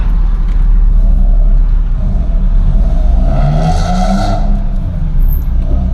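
A 2013 Opel Corsa diesel driving along a Greek mountain road, with a steady loud engine drone and road rumble throughout, a brief rise in whooshing noise midway, and no voices.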